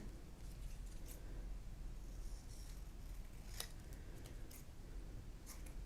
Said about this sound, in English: I'm going to trim it down a bit more.